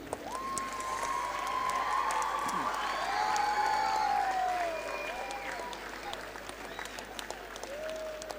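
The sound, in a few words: children applauding teachers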